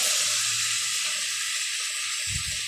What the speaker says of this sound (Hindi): तो 2 मिनट के लिए और फ्राई करते हैं टमाटर को,